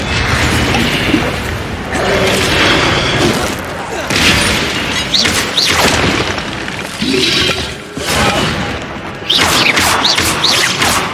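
Repeated Incendio fire spells cast in the Hogwarts Legacy video game, loud whooshing bursts with crackling impacts that come in quick succession over busy combat noise, with a voice calling out between casts.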